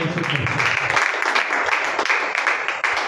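A church congregation claps together in a steady, dense round of applause that stays full and even throughout, with a few voices briefly audible at the start.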